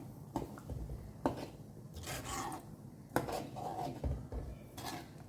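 Pav bhaji being stirred in a pan with lemon juice: scraping and rubbing of a spatula against the metal, with soft clicks and knocks in an uneven rhythm, fairly quiet and close.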